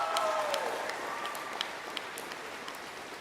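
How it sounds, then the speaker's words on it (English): An audience at a school music gala evening gives a last round of applause, a quiet, thinning patter of clapping with a few sharper claps standing out and faint voices at the start. "Let's give them one last round of applause"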